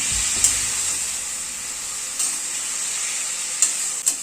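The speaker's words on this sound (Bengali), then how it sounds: "দইয়ের গ্রেভিটা তরকারির সাথে ভালো মতো মিশিয়ে দিচ্ছি" Yogurt gravy stirred into a drumstick curry in a pan over a very low gas flame, a steady close sizzle broken by a few light spoon taps on the pan.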